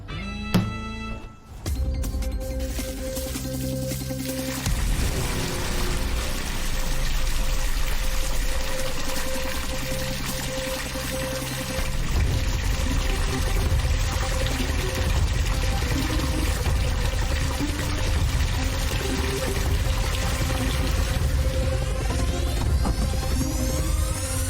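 Water running steadily into a container for a long stretch, a continuous pouring rush with low hum and a few thunks at the start, fairly loud and close without speech.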